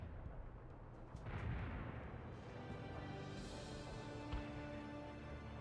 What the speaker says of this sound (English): Mortar battery launched at the coordinates.